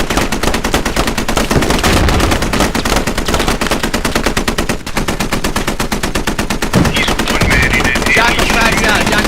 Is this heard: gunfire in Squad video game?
yes